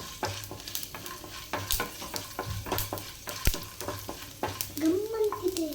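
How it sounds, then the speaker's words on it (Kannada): Ridge gourd palya with urad dal frying in ghee in a pan, a steady sizzle broken by repeated stirring scrapes, close and moderately loud with no talk. "ಇದೆಲ್ಲ ಸ್ವಲ್ಪ ಚೆನ್ನಾಗಿ ಫ್ರೈ ಆಗಿ"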